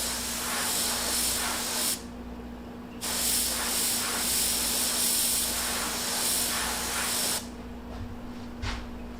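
Continuous close hiss of an airbrush spraying paint on a deer mount, running in long bursts with brief pauses between them, a faint steady hum underneath.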